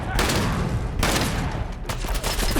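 Shotgun blasts of burning buckshot in a first-person shooter game, loud booming shots arriving in rapid succession with sharp attacks and rolling tails, sounding alone.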